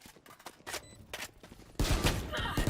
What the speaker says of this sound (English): He gets a headshot